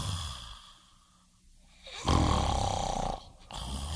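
A man snores with a few raspy, rumbling breaths: quieter wheezing inhales at first, then a loud, rough snore lasting about a second, a brief pause, and another strong snort.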